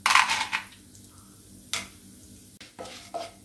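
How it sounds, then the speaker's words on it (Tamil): Toor dal is dry-roasted in a pan, with a few separate bursts of scraping, rattling stirs against the metal spaced by quiet gaps, close and fairly loud. "இப்போ நம்ம இந்த துவரம் பருப்பை வந்து கொஞ்சம் நம்ம வறுத்துக்கலாம்"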